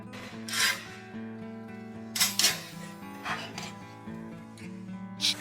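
A hacksaw rasps into an old antique dresser during a DIY repair. A few uneven, scratchy bursts of cutting sit over steady tonal background music.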